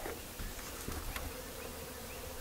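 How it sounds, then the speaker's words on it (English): Honeybees buzzing around a hive, a dense, continuous hum of many insects close by, steady and unbroken with no voices. "Look at all those bees."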